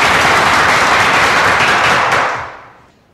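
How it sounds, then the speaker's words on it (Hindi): Loud, dense applause from a school audience at an annual day function after a teachers' skit, sustained before tapering off and fading to quiet. "तालियां।"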